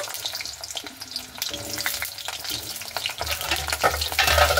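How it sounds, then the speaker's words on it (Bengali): Pointed gourd (potol) frying in hot oil in a wok, a bubbling sizzle broken by scraping stirs from a spatula, growing louder and fuller toward the end. "তো পটলগুলো ভেজে নেব"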